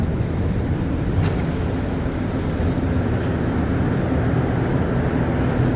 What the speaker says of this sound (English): So get a nice view of the train leaving here. This MR73.